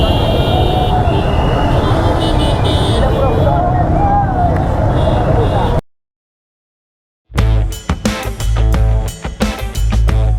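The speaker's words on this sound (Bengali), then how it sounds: "প্রচুর হুন্ডা, প্রচুর বাইক, মানে গাড়ি বাসের চেয়ে আসলে বাইকের পরিমাণ সবচেয়ে বেশি।" Dense traffic of many motorbikes and cars at the Padma Bridge toll plaza in Mawa, a loud steady engine roar with horn toots and crowd chatter, then a sudden dropout to silence before loud, choppy sound returns.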